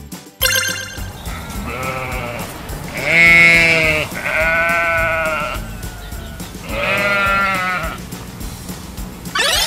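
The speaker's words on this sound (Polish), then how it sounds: "Owca beczy." A sheep bleats three times in a row, each call loud, wavering and drawn out, with short pauses between them and no talking.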